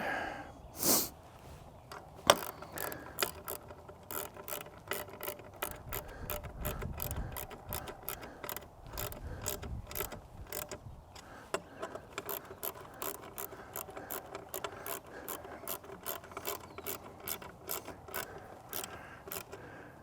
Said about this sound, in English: So we get our 8mm here. Start those. Take a ratchet.